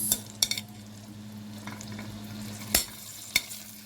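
Potatoes stirred in a pan of hot ghee with a single garlic clove, a low steady sizzle under a few sharp scraping and clinking knocks of the spoon against the pan, close by with no talking.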